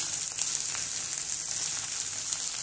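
Chopped broad beans hit a hot pan and sizzle steadily as a bright, continuous frying hiss, with no talking.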